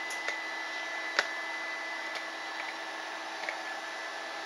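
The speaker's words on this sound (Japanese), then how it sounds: "ドライヤータイム" A hair dryer blows in a steady, faint, continuous whir with a few small clicks and bumps along the way, and nobody talks.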